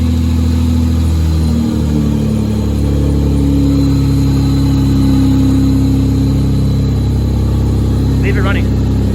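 A 2JZ-GE engine swapped into a Nissan 240SX runs loud and close, rumbling as it settles into a steady idle with a brief rev early on, while people talk over it.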